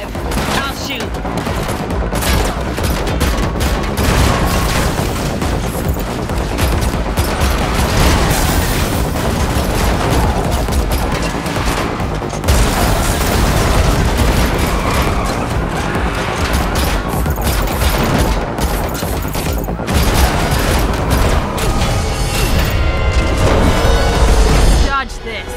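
Heavy gunfire and booming crashes roar almost nonstop through a car chase in the Matrix tech demo built on Unreal Engine 5, loud and dense, with voices and music woven underneath.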